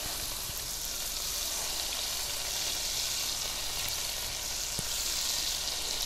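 Shrimp fry in a pan with chorizo and corn, giving a dense, continuous sizzle that stays steady and close throughout, with a faint tap or two and no talking.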